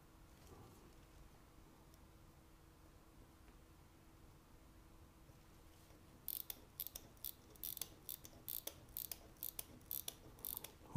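A Valjoux 72 chronograph movement in a vintage watch restoration is hand-wound, giving a faint run of quick, crisp ratchet clicks in irregular bursts against quiet background hiss.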